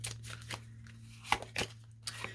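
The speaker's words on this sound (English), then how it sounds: "2 more shuffles and then I'm taking the top card" Tarot cards shuffled by hand in a few soft, brief riffling bursts spaced over a couple of seconds, quiet and close against a steady low hum, with no talking.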